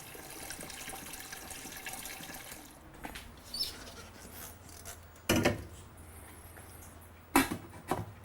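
Tap water rushes steadily into a cooking pot for fish (yellow sardines) in a Martinique kitchen, then fades into quieter trickling with a few sharp clanks of the pot near the end.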